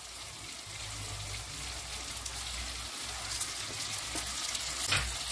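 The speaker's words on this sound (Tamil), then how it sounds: "இப்போ இந்த எண்ணெயிலே இந்த கத்திரிக்காய் நல்லா வதங்கி வரணும்." Stuffed brinjals fry in oil in a Chettinad-style masala, giving a steady, close sizzle that holds at an even level throughout with no talking.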